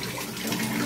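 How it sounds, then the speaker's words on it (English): Lukewarm water running and splashing as it is poured and mixed into a basin for a home-care soak, a steady continuous wash of liquid noise close by with no voices. "ito ay lukewarm water lang ang ini-mix natin"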